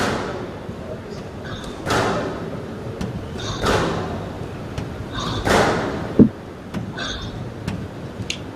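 A squash ball striking the tin in a professional quarter-final match, with sharp ball impacts and echoing thuds at an uneven rally rhythm in an indoor court.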